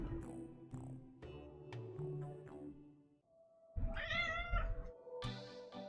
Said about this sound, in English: cat is demanding attention